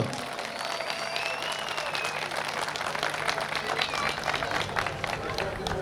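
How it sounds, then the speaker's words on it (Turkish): A crowd at an off-road race trophy ceremony applauds the municipal staff, steady dense clapping throughout with crowd murmur and a few voices mixed in beneath. "Alkışlayalım onları"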